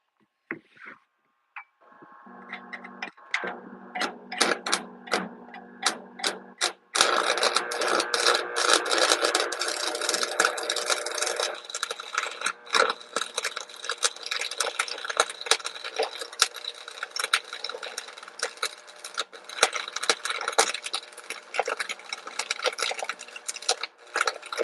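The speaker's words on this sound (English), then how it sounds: "Now we just keep putting weld into it" Welding onto blades produces a long, loud, dense crackling hiss with sputtering pops, starting in short bursts and then running steadily and close for most of the stretch.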